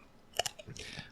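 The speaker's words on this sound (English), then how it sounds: "we should eat Pringles right into these microphones" Pringles potato chips eaten close to podcast microphones, giving a few sharp crunching bites up close followed by softer chewing, with no talking.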